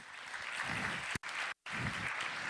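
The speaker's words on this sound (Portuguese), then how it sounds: "uma salva de palmas" A crowd applauds at a live talk or lecture after volunteers finish a walking exercise, steady dense clapping with two brief breaks near the end before resuming.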